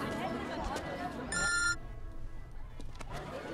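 A telephone rings in a Hindi film scene, one short burst of electronic ringing rising briefly above the murmur of background voices and noise.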